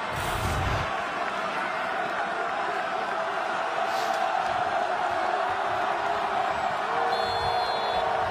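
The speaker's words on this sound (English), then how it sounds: "Clemson crowd in full throat" A Clemson soccer crowd roars during a penalty kick in a 2019 NCAA men's quarterfinal against Stanford, a dense, loud, sustained stadium din with whoops rising within it and a commentator talking over it.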